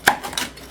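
A knife cuts through the edge of chocolate cracker candy made with saltine crackers, giving one sharp close chop followed by a faint scraping trail, with no talking.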